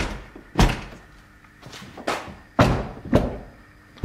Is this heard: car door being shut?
yes